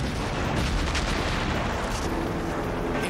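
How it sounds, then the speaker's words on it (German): Explosion from the German trailer for the 1996 action film Cracker Jack 2 - Hostage Train, a dense, sustained booming rumble with crackling bursts that fills the whole stretch loudly, with no voices. "War das nicht eine wunderbare, nette kleine Explosion?"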